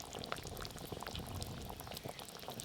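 Hilsa fish pieces, fried beforehand, simmering in a curry gravy with eggplant, giving a steady dense bubbling and gurgling that carries evenly throughout with no voices.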